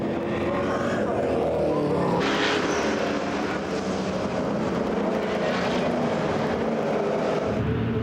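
NASCAR Euro Touring Series stock cars racing side by side at Nogaro in 2013, a dense, continuous engine roar at high revs with a commentator talking over it.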